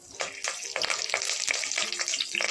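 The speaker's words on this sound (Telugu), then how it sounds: "కొంచెం ఫ్రై చేసి కొద్దిగా కరివేపాకు" Curry leaves crackle and fry in hot oil for sambar rice, giving a busy sizzle with repeated sharp spattering bursts. The sound is close and fairly loud.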